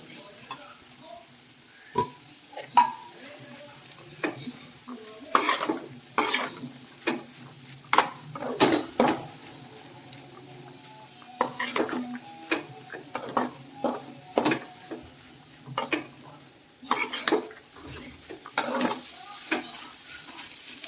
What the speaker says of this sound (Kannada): ನೋಡಿ ಇವಾಗ ಸೊಪ್ಪನ್ನು ಹಾಕ್ಕೊತಾ ಇದ್ದೀನಿ ನಾನು